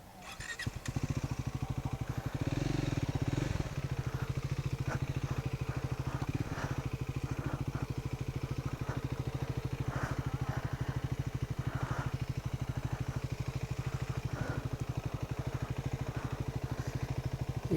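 Triumph Scrambler 400X single-cylinder motorcycle engine running steadily at speed on a beach road, a constant throbbing drone with wind rush, heard from the rider's position throughout.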